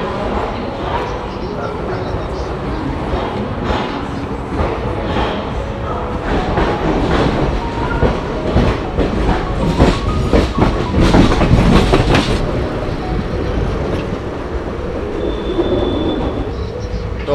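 Ala Hazrat express train rolling out of Jaipur Junction on a clear morning, with a steady rumble and scattered wheel clatter throughout, swelling slightly midway, while someone talks over the running noise.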